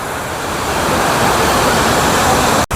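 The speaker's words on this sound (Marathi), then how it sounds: "हा बघा लेणीचा धबधबा." Waterfall at the Khondane caves in Karjat during the monsoon, a steady, loud broadband rush of falling water that holds constant throughout, cut by a brief dropout near the end.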